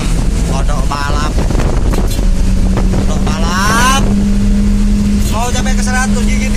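A race-tuned car engine accelerates hard through several gears, with repeated rising revs and shifts heard under heavy wind buffeting and someone talking throughout.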